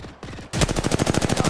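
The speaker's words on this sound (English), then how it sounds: "They're shooting at me." Enemy gunfire aimed at the player in a battle royale shooter game, a few scattered shots followed by a loud, rapid automatic burst of evenly spaced rounds close by.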